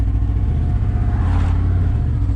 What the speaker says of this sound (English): That's an exhaust leak, by the way